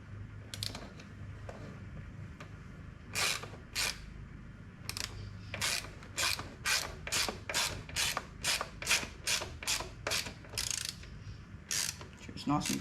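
A ratchet with a T45 socket drives the screw that holds a KTM 250 EXC plastic rear fender to the frame. About a dozen quick, crisp clicking strokes come close up and speed into an even rhythm toward the end.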